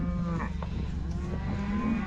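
Cattle on a farm pasture moo repeatedly, low drawn-out lowing from several cows close by, steady through the whole stretch with no talk over it.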